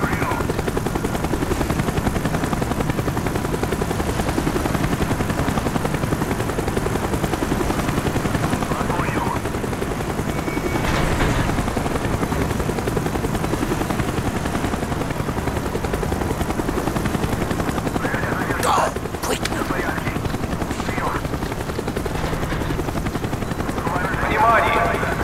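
A helicopter in Call of Duty: Black Ops drones steadily and loudly with a continuous rotor roar throughout, while brief voices and occasional gunfire cut in over it.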